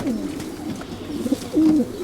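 A Müller champion German breeding racing cock pigeon coos in short low rolling phrases, close and fairly clear, with a longer throaty coo near the end.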